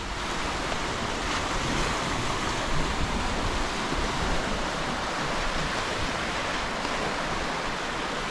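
Steady broadband roar of ocean waves and surf, loud and continuous, mixed with wind buffeting the microphone, no voices.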